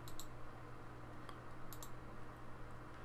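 A computer mouse gives a few faint, quick clicks, a pair at the start and more spread through the rest, over a low steady background hum.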